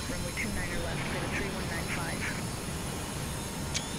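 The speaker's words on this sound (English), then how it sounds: "the engine sounds for the 727." Steady jet engine roar of a Boeing 727 in Microsoft Flight Simulator 2024, a constant broadband drone with a rumbling low end, heard from the cockpit, with faint radio chatter in the background.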